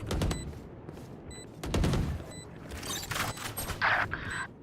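A swarm grenade goes off in Valorant as a rapid series of sharp popping bursts, separate cracks followed by a dense crackling cluster over several seconds.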